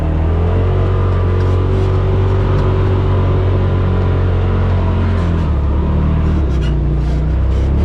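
A Polaris RZR Pro XP engine drones loudly and steadily while the machine drives along a trail. The deep rumble stays close, and the pitch drops partway through as the throttle eases.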